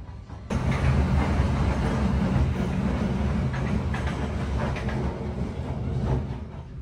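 Economy train KA Dharmawangsa rolls toward Tegal station past a track junction, heard from inside as a loud, steady rumble with faint rhythmic clatter and no talking.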